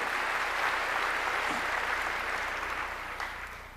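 Congregation in a church applauding together: steady, dense clapping that fills the whole stretch and fades slightly near the end, with no speech over it.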